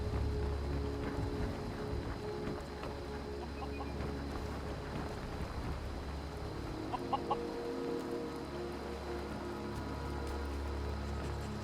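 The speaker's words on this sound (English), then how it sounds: "And 2 chickens." Chickens in Skyrim clucking softly beside a stable with a horse and a pet rabbit, a few brief calls surfacing over a steady low ambient game drone.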